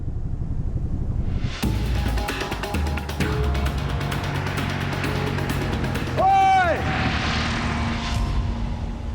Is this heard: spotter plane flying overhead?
yes